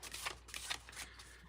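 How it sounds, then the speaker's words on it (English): Oracle cards are being shuffled, giving a few soft, quiet riffling and sliding bursts close by. "We're just going to keep on shuffling."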